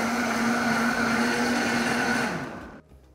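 A blender whirs steadily and loudly as it blends fruit and carrots with strawberries, blueberries and apple juice, then winds down and stops near the end.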